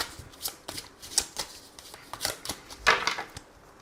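Oracle cards are shuffled by hand in a series of crisp riffling and flicking bursts, close and fairly quiet, with no talking over them.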